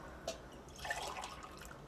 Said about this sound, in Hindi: और अब हम डाल देंगे 4 गिलास पानी मैं इसके अंदर